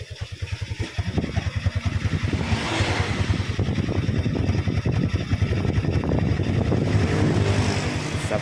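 A bored-up Yamaha Vega R motorcycle fitted with a Vario 125 piston idles close by, its exhaust giving a steady, fast low-pitched thumping that grows slightly louder after the first second and runs alone throughout.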